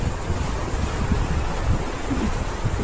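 A stream flows beneath a new footbridge in a valley near Wellington, New Zealand, producing a constant dense rush of water noise without any voices.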